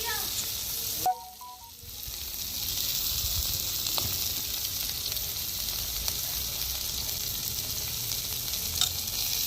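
Tadka of boiled chickpeas and fennel seeds sizzling hard in a hot pan: a loud, steady frying hiss that swells after a brief pause near the start and carries on unbroken with faint stirring clicks.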